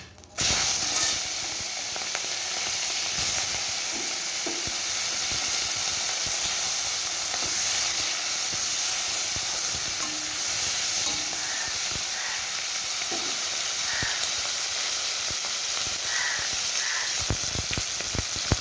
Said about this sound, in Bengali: এবারে মাছগুলোকে সামান্য ভেজে নেবে